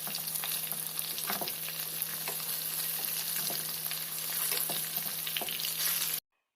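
Desi-style spice masala frying in a pan gives a steady, close sizzle with faint scraping stir sounds throughout, then cuts off abruptly at the end.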